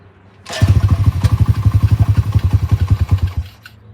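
A blue carbureted motorcycle idles low and a little unevenly, its close, loud exhaust thumping in a steady rapid rhythm for about three seconds before cutting off.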